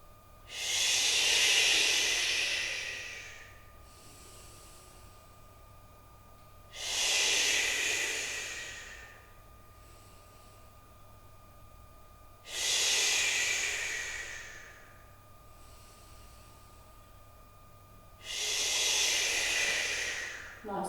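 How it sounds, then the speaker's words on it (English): Slow, deep breaths during a beginner yoga flow: four long, audible airy exhales come at steady intervals of about six seconds, close and clear over a faint steady hum, with no talking. "again breathing in 5 rounds"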